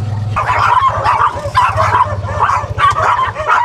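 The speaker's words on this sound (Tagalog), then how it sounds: "Kaso ang daming aso." Many dogs bark and yip together in a noisy campsite waiting area, a dense, continuous clamor of overlapping barks close by with a low hum underneath.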